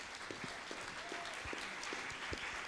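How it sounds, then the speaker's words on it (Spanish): Applause from the audience at a museum panel discussion on inclusive museum design, a steady moderate wash of many hands clapping, fairly distant and quiet, with a faint voice briefly audible underneath. "Pueden aplaudir ahora."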